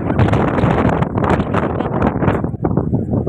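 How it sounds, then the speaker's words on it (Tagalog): Strong wind roars and gusts loudly against the microphone, a dense continuous rush that briefly dips near the end. "Grabe lakas ng hangin."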